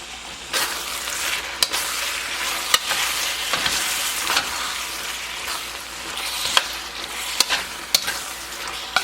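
Beef and shrimp teriyaki stir fry, thickened with brown sugar and cornstarch, sizzles steadily in a pan while a utensil stirs it, with repeated sharp scrapes and taps against the pan.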